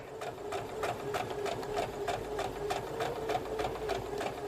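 A sewing machine stitches slowly around the curve of a heart shape on a quilt block, a steady close run of even needle strokes with a regular rhythm throughout.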